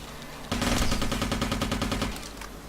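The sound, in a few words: robot shooting in video game Interstellar Marines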